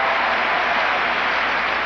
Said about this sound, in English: And now the crowd is cheering.